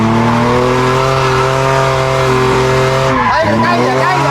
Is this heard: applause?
no